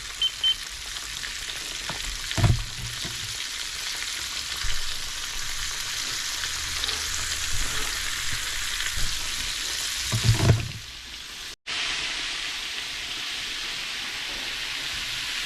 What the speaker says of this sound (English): I put another batch in. Bring my temperature back up to